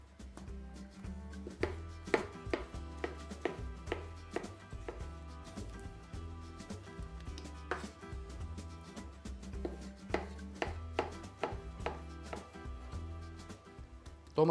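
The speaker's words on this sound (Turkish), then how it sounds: "Domates dilimliyorum." Tomatoes are sliced with a knife for a minced-meat kavurma dish. A quick, uneven series of sharp knife taps on a cutting board runs throughout, over steady background music.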